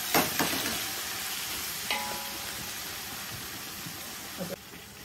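Methi leaves crackle and sizzle in a pan, a soft steady frying hiss with occasional stirring clinks and scrapes, fairly quiet throughout.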